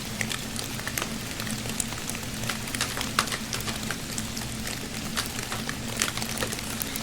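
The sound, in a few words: rain falling outside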